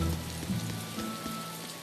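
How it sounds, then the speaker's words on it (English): Steady rain patters across a surface in the Tales of Berseria game world, a soft continuous hiss with faint droplet ticks and a low drone beneath, no voices. "It's raining here."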